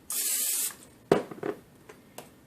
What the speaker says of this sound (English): You're going to spray it with olive oil spray or whatever spray you have.